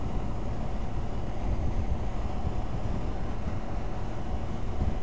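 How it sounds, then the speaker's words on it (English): Wind blows steadily outdoors, a constant broadband rush and low rumble against the microphone with no breaks, loud and close throughout, with no voices over it. "it's windy today."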